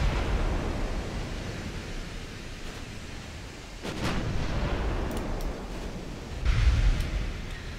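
Naval gunfire from the warship USS Northampton in the Ultimate Admiral Dreadnoughts naval strategy game, dull booming salvos over a constant rushing sea-like roar, with a heavier blast rising near the end.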